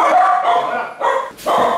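Dogs bark loudly and close by in quick, overlapping bursts, three clusters of yapping in under two seconds.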